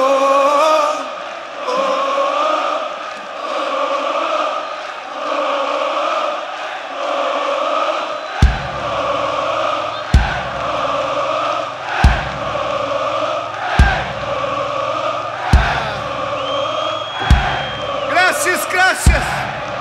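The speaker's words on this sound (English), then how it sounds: "the crowd doesn't stop" A large stadium crowd at a Pearl Jam concert in Buenos Aires, Argentina roars, chants and cheers continuously, loud and sustained, with a series of sharp booming hits punctuating the noise in the second half.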